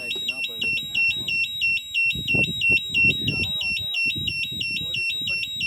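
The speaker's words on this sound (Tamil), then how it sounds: "அலாரம் வருது" An alarm tied to a tripped transformer beeps in a steady repeating pattern of high pulsing tones, loud and continuous throughout, with someone talking over it.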